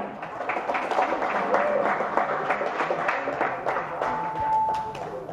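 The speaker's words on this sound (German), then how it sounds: "Applaus" Sustained applause from a crowd at a district-league wrestling match in Essen-Dellwig, a dense wash of claps with scattered louder hits, steady for several seconds with a brief whistle cutting through.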